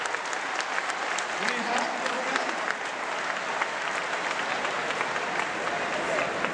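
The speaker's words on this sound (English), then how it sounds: "give them all a round of applause" A crowd at a BlizzCon 2008 cosplay contest applauds its winners with continuous, even clapping throughout, and a voice briefly speaks over it.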